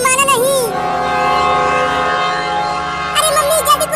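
A cartoon train whistle sounds in bright wavering blasts at the start and end, with a steady rumbling train tone sustained between them, loud and close.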